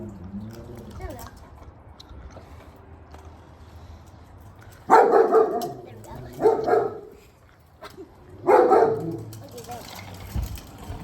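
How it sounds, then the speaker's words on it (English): Neighbor's dogs bark in three loud bursts outdoors on a rainy day, over steady background noise and some faint voices, with quieter yips trailing at the end. "The neighbor's dogs always bark,"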